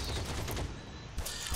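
Rapid machine pistol fire in a tank battle video game, a dense, loud fusillade of overlapping shots lasting under two seconds.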